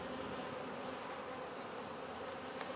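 Honeybees hum steadily at a small, shrinking hive, a dense continuous buzz close up with no voices over it.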